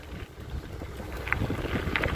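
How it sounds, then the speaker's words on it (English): Gusty wind buffets the microphone with low rumbling noise on a dusty road in Manitoba, rising and falling, with a couple of faint clicks. "A little windy today too."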